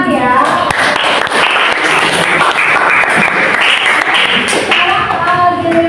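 Classroom group claps after a student presentation during a lesson, a dense crackling patter running steadily for several seconds, with voices talking over it at the start and end.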